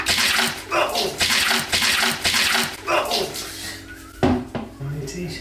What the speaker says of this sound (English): Anyone else really panic when I started shaking that shaker?